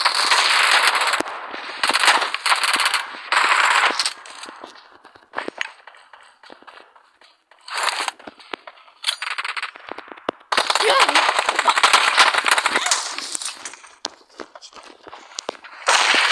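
Repeated bursts of automatic gunfire and single shots in a shooting video game, loud and close, coming in rapid clusters separated by quieter gaps, with a voice talking over parts of it.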